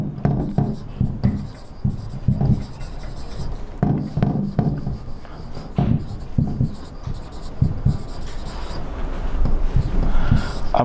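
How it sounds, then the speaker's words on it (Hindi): A pen scratches figures onto paper in quick, irregular strokes during an accounting calculation, close to the mic, with someone talking over much of it. "तो ये मैं साफ साफ लिख देता हूँ"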